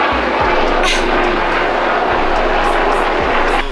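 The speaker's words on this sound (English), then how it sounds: "a helicopter wants to pass right now" Loud, steady engine roar of a helicopter passing overhead dominates throughout, a dense continuous rumble with no break.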